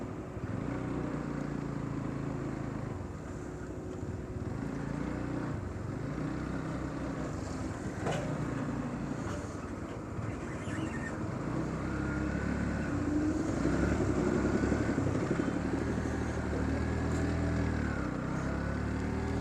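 A Bajaj Pulsar NS125 motorcycle is ridden on the road, its engine droning steadily beneath heavy wind rush and road noise, rising slightly in intensity toward the end, with no talk.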